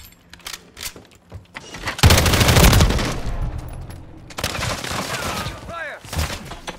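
Sustained automatic gunfire and explosive bursts rattle through a Call of Duty Modern Warfare 3 firefight, loud and continuous, with a brief whooshing sweep near the end.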